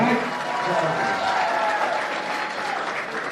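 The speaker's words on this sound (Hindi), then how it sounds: "इधर तालियां हो उनके लिए सर के लिए" A live audience at a dance-and-music salute program for the Border Security Force claps steadily and loudly throughout, a dense sustained applause with faint crowd murmur and a voice underneath.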